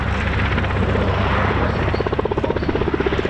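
A Lynx HAS-3 anti-submarine helicopter at the RAF Cosford Air Show: a loud, continuous rotor roar with a rhythmic blade chop that grows more pronounced toward the end, heard outdoors without talk.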